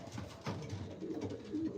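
Homing pigeons in a loft giving soft, low cooing calls, faint and murmuring against a quiet background.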